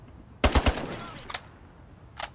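AR-57 rifle fired in the video game Ironsight: a tight burst of three sharp, loud shots, then two single shots spaced apart, each with a brief crack and short decay.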